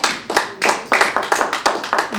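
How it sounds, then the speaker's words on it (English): Audience at a disaster preparedness class applauding, a short burst of irregular, close hand claps from a small group. "Give him a round of applause."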